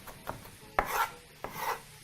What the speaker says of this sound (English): Now proceed to chop while drawing your onions towards the center of your board